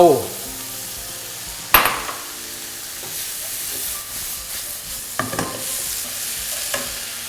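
A vegetarian holy basil stir-fry with fried tofu over high heat: loud sizzling with sharp clangs of a spatula against the wok, then repeated scraping tosses over a continuous hiss.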